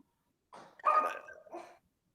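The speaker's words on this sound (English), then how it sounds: "Am I having a stroke or did I just hear a dog?" A dog gives a few short, faint barks in the background, spaced about a second apart, against otherwise quiet surroundings.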